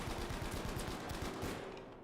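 A gun in Battlefield V fires a fast, evenly spaced automatic burst of close, loud shots for about a second and a half before tapering off.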